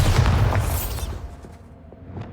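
A Bombarda blast spell in Hogwarts Legacy bursts with a loud, booming explosion that dominates the first second, then decays into a lower rumble with a few faint crackles and pops trailing off.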